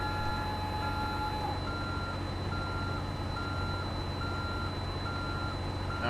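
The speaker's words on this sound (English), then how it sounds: "Now I got the beeper going here." A truck's reversing beeper in American Truck Simulator sounds a steady series of evenly spaced electronic beeps over a constant low engine rumble, moderately loud with no talking.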